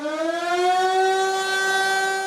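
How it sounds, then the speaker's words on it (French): A civil defense warning siren under test in Koungou wails loudly on its own, rising briefly to a steady, sustained tone that holds for the whole stretch. "Il est 9h15 passé ce matin à Koungou quand retentit une sirène assourdissante"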